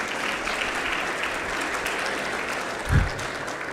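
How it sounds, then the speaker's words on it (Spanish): Audience applause at a results presentation event for a health and education policy project, a steady wash of clapping from a seated crowd that holds evenly throughout. "Yo creo que necesitan otro fuerte aplauso para que se animen a hablar."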